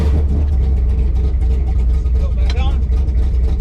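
A 1968 Dodge Charger R/T engine with a 727 transmission runs loud and close with a steady low rumble throughout, with a brief voice speaking over it.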